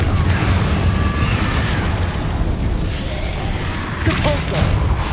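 Confringo blasting spells exploding in Hogwarts Legacy, a steady rumbling boom bed with crackling bursts near the start and a sharper cluster of blasts near the end, loud and continuous with no one speaking.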